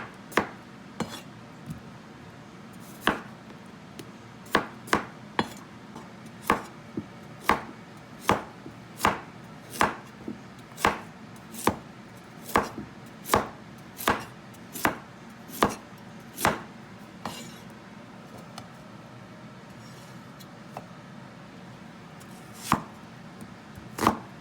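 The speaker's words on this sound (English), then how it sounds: "Now I need to cut it. Just cut into 3 like big pieces." Peeled vegetables being cut into big pieces with a knife on a board, a long run of crisp, evenly spaced chops, about one per second, close and distinct with no talking.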